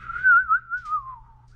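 A single whistled tone, sliding and gently wavering, imitating the sound of wind during a library storytime reading.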